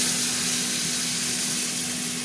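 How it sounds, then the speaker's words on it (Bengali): Water poured onto red masoor lentils frying in a pan sets off a loud, steady sizzling hiss that holds evenly throughout, with a faint low hum underneath. "ডালটা 2 মিনিট ভাজা হয়ে গেছে। এবার জল দিয়ে দেবো।"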